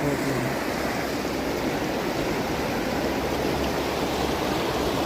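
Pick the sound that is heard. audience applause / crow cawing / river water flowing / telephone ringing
river water flowing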